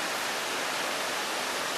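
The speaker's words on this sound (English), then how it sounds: "and then there's a nice little waterfall that I can't really get too much closer to right now" A small waterfall at Lacamas Lake pours in a steady, even rush of white-noise-like water, fairly loud and unbroken, with no voices over it.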